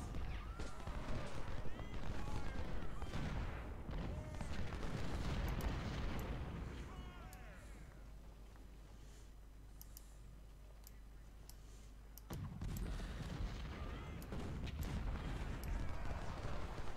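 Gunfire and booming volleys from a Civil War video game battle at Saunders Farm, dense and continuous through most of the stretch with a quieter lull in the middle, mixed with game voices and ambient battle noise.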